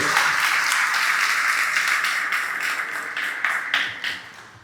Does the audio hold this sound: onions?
no